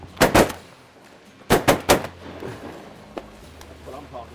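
Shotguns fire at ducks during a hunt at a goose farm: a tight cluster of sharp blasts, then a second rapid volley of three close, loud shots, with faint chatter and field noise between.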